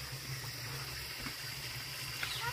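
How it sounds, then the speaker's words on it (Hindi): Waste water runs down from a public water-filling spot in Ranikhet, a steady, continuous rushing flow heard close with no voices over it. "यहाँ से वेस्टेज पानी नीचे जा रहा है"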